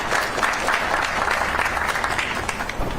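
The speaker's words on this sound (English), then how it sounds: "Give a round of applause." An audience at a veterans' rally at the State House applauds, a dense, steady wash of clapping from many hands that holds evenly throughout.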